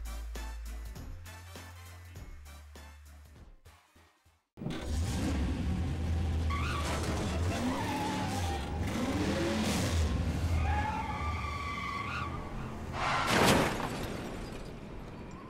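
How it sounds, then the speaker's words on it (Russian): A survivors' truck in Left 4 Dead 2 rumbles and revs loudly after a sudden cut from music, its engine rising and falling, with a sharp impact burst near the end as it hits a fence. "Грузовик не сносит эпично забор. Выжившие просто в него врезались."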